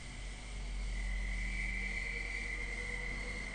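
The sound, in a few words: crickets chirping at night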